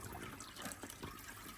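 Dirty water drains out of a fish tank in a steady close trickle and gush, a continuous liquid rush with no voices.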